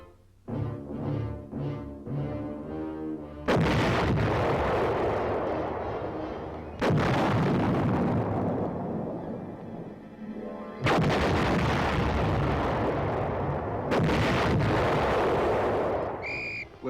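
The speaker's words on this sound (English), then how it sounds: "the men of the defending forces bring their own 280-millimeter gun into play." A 280-millimeter artillery gun fires conventional shells in a military maneuver, three massive booms, each followed by a long rolling decay, preceded by a brief whistling tone.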